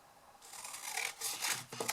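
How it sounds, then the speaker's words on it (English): Scissors snip and rasp through paper while cutting pieces for a folded triangle gift box, a few close, quiet strokes in quick succession with no talking. "I'm just going to use my scissors"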